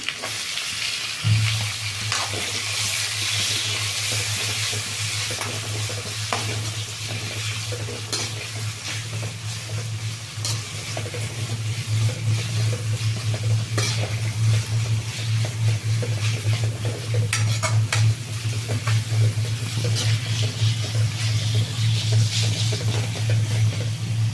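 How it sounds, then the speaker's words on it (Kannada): Onion and tomato frying in oil, a steady close sizzle running throughout with intermittent scrapes and clinks of a spoon stirring in the pan, no voices. "ಟೊಮೆಟೊ ಎಣ್ಣೆನಲ್ಲಿ ಫ್ರೈ ಆಗಲಿ ಚೆಂದಾಗಿ"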